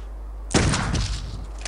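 A single loud gunshot goes off in the video game Clive Barker's Undying, a sudden heavy boom that rings and fades over about a second against low background hum.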